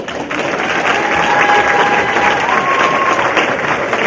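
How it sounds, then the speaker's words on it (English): Loud, dense applause from a crowd with scattered cheers and whistles, sustained evenly across the whole stretch. "Give him a round of applause."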